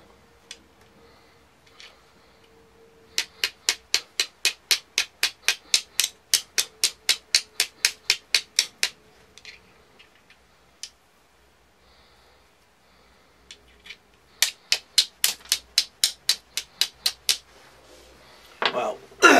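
A snapped file set in a small wooden handle is struck against flint in a bushcraft fire-lighting kit, giving two runs of sharp, evenly spaced scraping strikes, close and crisp, with short pauses between.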